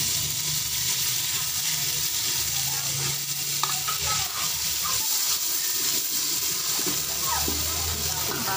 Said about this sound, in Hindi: उसके बाद अदरक लहसुन का पेस्ट